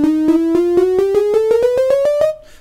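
A Reaktor pad preset played on Maschine pads climbs chromatically in about fourteen evenly spaced steps, each note struck with a soft attack over a steady sustained tone, close and loud, fading out at the end.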